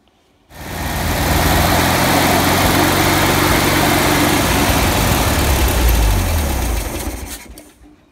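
A 1974 Volkswagen Super Beetle engine fires on a cold start and runs steadily with a loud, continuous rumbling idle for several seconds, then begins to fade and slow toward the end.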